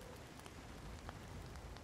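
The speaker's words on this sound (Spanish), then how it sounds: "Vamos a esperar a que pase un poco la lluvia." Steady rainfall patters in the survival video game Project Zomboid, a faint, even hiss of drops with scattered soft taps and no voices over it.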